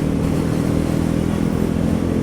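A Bajaj Pulsar NS400Z motorcycle accelerates hard from 85 km/h, a loud, steady engine roar with wind rush that holds throughout without pause, close to the rider.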